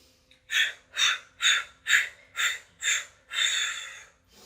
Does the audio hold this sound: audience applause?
no